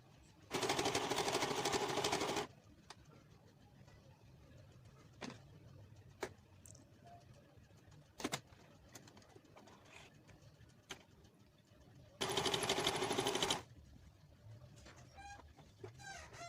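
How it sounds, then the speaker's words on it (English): Sewing machine stitching hijab fabric, two bursts of steady whirring separated by quiet gaps with a few faint clicks and taps. "So I'm done sewing the front part now."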